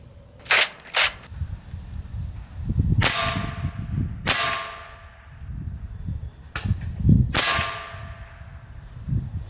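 Huben GK1 .25 caliber airgun shooting at a bullseye target: a series of sharp cracks, some in quick pairs, with several louder reports ringing briefly, over low background rumble and handling noise.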